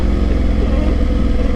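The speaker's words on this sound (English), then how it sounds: "This bike's got so much engine braking." Royal Enfield Himalayan motorcycle engine braking while descending a steep trail, a steady, loud low engine drone with a pulsing rumble and no throttle surges, continuous and close throughout.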